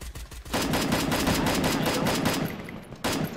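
Video game gunfire with rapid automatic bursts in a fast stuttering rhythm, loud and close, with a short pause before the shots resume.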